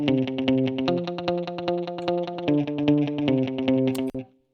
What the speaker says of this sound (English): So that's 2 different delays happening.